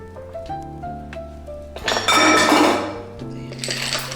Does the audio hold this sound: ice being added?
yes